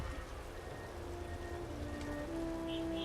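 Steady rain patters continuously in the video game Tomb Raider, a soft broadband wash with faint tonal music-like hums underneath, no voices.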